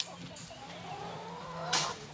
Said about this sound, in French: Les poules en musique.